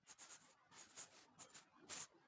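Pen writing on paper while a geometry proof about a rhombus is worked out, a run of quick scratchy strokes in short bursts, fairly faint and close, with no talking.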